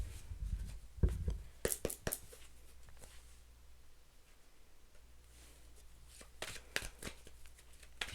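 Tarot-style cards are pulled and shuffled close by, with quiet riffling and a handful of crisp snaps and flicks clustered near the start and end, soft and intimate with no talking.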